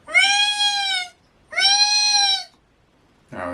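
A small child imitates an animal sound, answering a request for a rabbit noise. There are two drawn-out, high, meow-like cries in a row, close and clear, followed by a short burst of another voice at the end.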